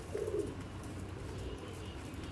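A Sialkoti pigeon gives a single short, low coo near the start, close and fairly soft, followed by quiet background rumble.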